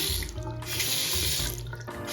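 A newly installed Delta Silverton faucet runs water into a sink, a steady close hiss and splash with slight fluctuations throughout.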